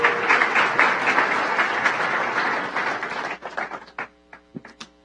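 Church congregation at a prophetic forum applauding loudly, thick clapping that thins out toward the end into a few scattered, isolated claps as a voice speaks briefly.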